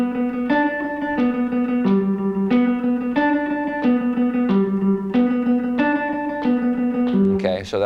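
Electric guitar picking a 1-3-5 triad warm-up, evenly spaced arpeggiated notes repeating in a steady rhythm, clear and close, ending with a brief strum.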